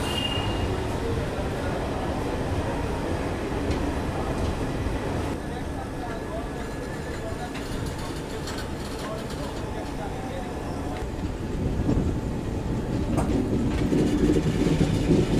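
The Garib Rath Express pulling out of Kollam Junction, heard from on board: a steady rumble with clickety-clack of wheels on rail joints, swelling louder near the end, with faint voices in the background.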